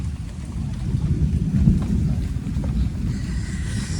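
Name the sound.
rain falling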